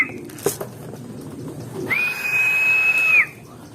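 A bird coos softly, then gives a sustained, clear whistling call lasting over a second, with faint rustling and a brief knock before it.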